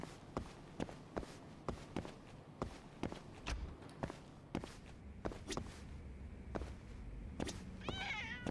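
In the video game Judgment, a cat meows briefly near the end of a stretch of soft, evenly spaced footsteps in a quiet indoor space.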